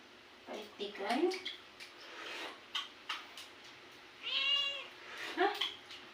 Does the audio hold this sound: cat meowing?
yes